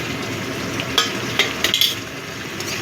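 Chhana and tomato frying in a pan for chhanar torkari, a loud continuous sizzle broken by several sharp metallic clinks of a utensil stirring against the pan.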